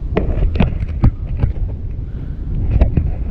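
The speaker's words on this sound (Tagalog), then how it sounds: "lagi pong mahangin dito." Wind buffets the microphone on a small fishing boat out on windy water, making rough, uneven gusts with a few sharp knocks and thumps mixed in.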